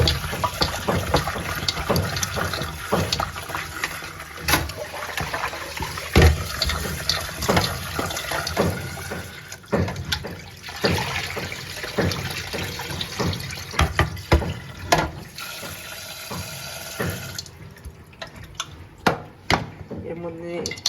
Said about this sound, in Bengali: এর মধ্যে আলুগুলো আমি ধুয়ে নিলাম, এর মধ্যে জল দিয়েছি পরিমাণ মতন